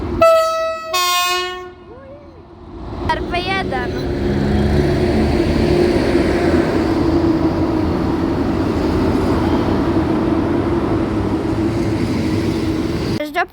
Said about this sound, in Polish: Odjeżdża Intercity Mechofer do Zielonej Góry.